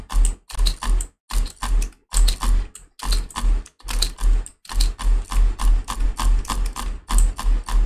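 Rapid drag clicking on a computer mouse during a Bloxd.io match, a dense rattling burst of clicks in short repeated bursts with brief gaps, loud and close, with no talking.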